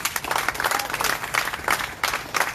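An audience at a public speaking event gives applause for naturopaths, uneven bursts of clapping that rise and dip over a few seconds, with a few faint voices mixed in.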